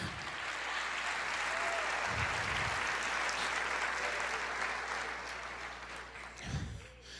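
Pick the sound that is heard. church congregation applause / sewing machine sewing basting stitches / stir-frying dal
church congregation applause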